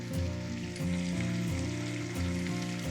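Dried tuna pieces frying in a pan for a Sri Lankan curry, with a loud, continuous sizzle over a steady tonal hum.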